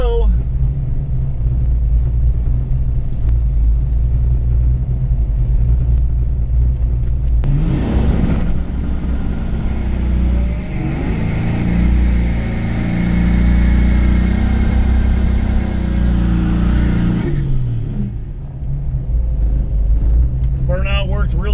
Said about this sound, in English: Burnout worked really good.